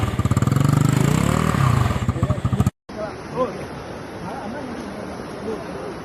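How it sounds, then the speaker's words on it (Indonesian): Motorcycles slipping on a steep muddy track during flood relief in Aceh Tenggara: a loud close engine revving with pulsing throttle, then a cut to a quieter scene with rough clatter and wet scraping. "Sepeda motor berkali-kali tergelincir, memaksa para relawan turun dan mendorong bersama."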